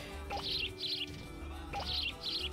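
Bird chirps in the Katamari Damacy REROLL video game, two pairs of bright twittering calls with a short pause between them, set over a steady low game background with no talk.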